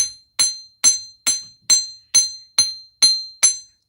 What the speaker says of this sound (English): Here's my chasing hammer.